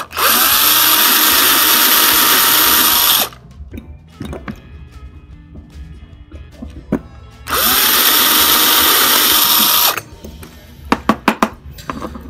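A power drill bores screw holes into a Maisto diecast metal car casting in two loud, steady high-pitched whirring bursts of about three seconds each, separated by quiet handling clicks and small knocks of the metal piece.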